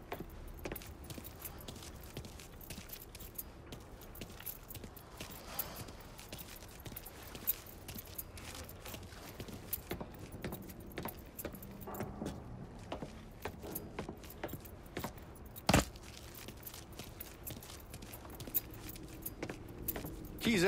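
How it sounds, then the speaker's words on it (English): Keys jangle repeatedly in Mafia III as they are picked up and handled, a bright close rattle over a low ambient background. "Lincoln, pick up the keys"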